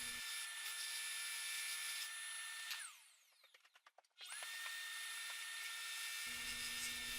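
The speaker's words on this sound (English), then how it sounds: "I use the jigsaw to carefully cut out the disc from the laminate board" A jigsaw whines steadily at high pitch, cutting a disc from laminate board, pausing midway with a stuttering slowdown before the motor revs back up and continues.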